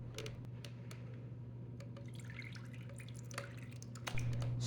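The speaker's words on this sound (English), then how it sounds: "you're going to go ahead and pour off the buttermilk" Buttermilk poured off freshly churned homemade butter, heard as a run of small, quick drips and light splashes, close and fairly faint, ending with a brief louder pour.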